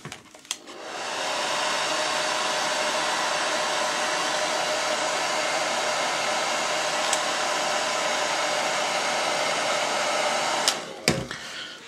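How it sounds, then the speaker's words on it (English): A hair dryer blows steadily and loudly to dry blue paint on a Wings of Fury Space Marine miniature, running as one constant whoosh for about ten seconds before cutting off with a couple of clicks. "A hairdryer is always a handy tool."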